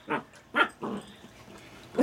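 A chocolate Labrador puppy gives a few short, high yips and barks in quick succession, close by, with brief pauses between them.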